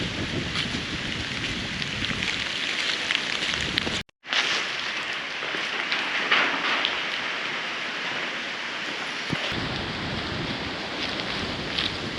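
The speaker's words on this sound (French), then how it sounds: "une fois de plus, il pleut." Steady rain falling in Martinique, probably pattering on a boat, makes a dense continuous hiss with wind noise. It breaks off in a short gap about four seconds in, then resumes just as steadily with no voices.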